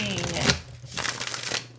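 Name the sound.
tarot cards being shuffled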